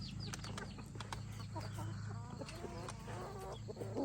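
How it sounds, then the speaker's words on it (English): A rooster clucks repeatedly near the recorder on a farm, short bursts over a steady low hum with a faint voice briefly in the background. "So I named this rooster Lewis Lit off the show Suits"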